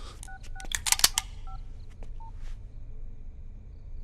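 Touch-tone telephone keys dialed for a call to Sydney, a run of short beeping tones mixed with clicks and handling taps, then a sparse quiet stretch with a final tone.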